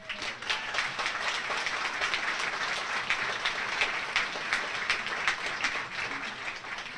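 Audience applause fills a hall at a Laconia mayoral inauguration as a returning priest is welcomed, a dense, steady clapping that holds evenly throughout.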